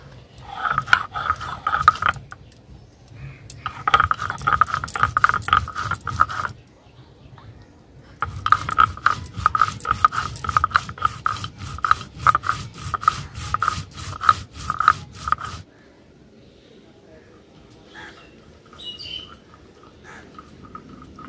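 Cumin being ground into paste on a stone in a village kitchen, a rough repeated rubbing and scraping in rhythmic bursts with short pauses, close and fairly loud, with quieter background sounds between strokes.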